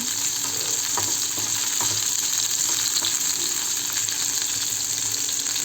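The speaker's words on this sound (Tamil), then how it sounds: "நல்லா நமக்கு பொரிச்சு வருது. இது நல்லா நம்ம ஃப்ரை பண்ணி எடுத்துடலாம்." Spicy prawns fry in hot oil with a loud, steady sizzle, while a spoon stirs them lightly now and then with soft scraping taps, heard up close without any voices.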